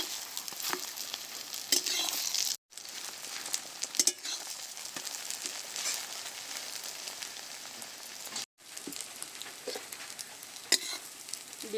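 Potato and egg omelette frying in hot oil in a pan crackles and spits continuously up close, with two short breaks in the sound, and no talking.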